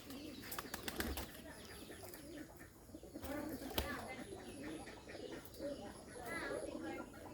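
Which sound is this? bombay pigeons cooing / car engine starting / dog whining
bombay pigeons cooing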